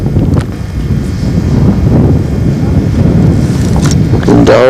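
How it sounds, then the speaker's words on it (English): Light wind blowing outdoors in Las Vegas on a cool day, a steady low rumbling wind noise buffeting the microphone throughout with faint background traffic-like hum. "Little wind blowing, nothing great."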